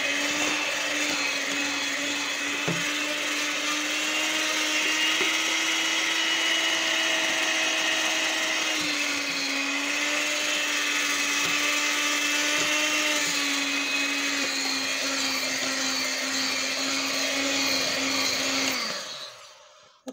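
An electric mixer whips butter and cream for a Napoleon cake filling, whirring steadily at a constant pitch with a slight grinding texture, running continuously for about twenty seconds before winding down.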